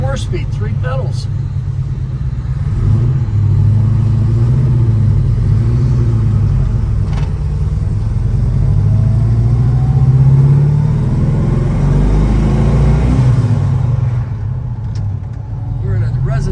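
Engine of a 1968 Plymouth Road Runner post coupe with a 4-speed manual heard from inside on a residential ride, a loud, steady low rumble that rises and falls with acceleration, with talk over it.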